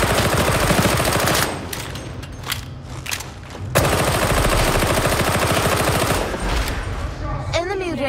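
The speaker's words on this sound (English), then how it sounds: "Suppressing fire!" Suppressing fire in Warhammer 40K: Darktide, loud close-range automatic gunfire in long rapid bursts separated by a short lull, with a voice shouting over the shooting.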